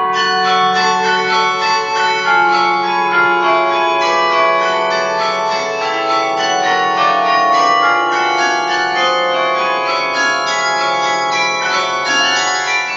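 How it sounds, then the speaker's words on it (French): Hand-rung carillon bells in a tower built in 1513 ring out loud and close in a dense, continuous peal of overlapping tones, with no voices. "Pour faire résonner son carillon, Alfred met du cœur à l'ouvrage."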